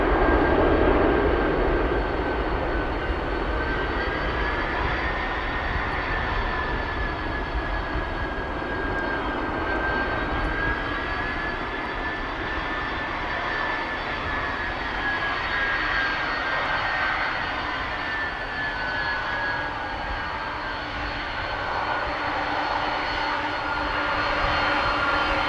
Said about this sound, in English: Audio being taken over by the engines of the 767, the second 767 of the show